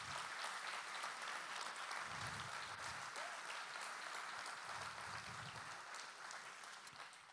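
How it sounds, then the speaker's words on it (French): A crowd at an inauguration ceremony in Montivilliers, France applauds steadily and quite faintly at a distance, a sustained even patter that fades a little near the end. "Je crois qu'on peut l'applaudir."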